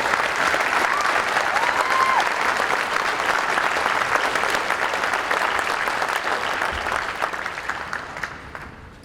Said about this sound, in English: Give a round of applause to everyone that's being recognized for promotion today.